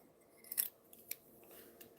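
Scissors cutting paper, a few quick, crisp snips close to the microphone in an otherwise quiet studio, no one speaking.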